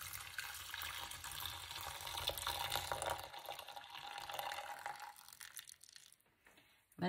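Clove water poured into a homemade hair shampoo mixture, a soft steady trickle of liquid running for several seconds before tapering off, faint and close with no talking.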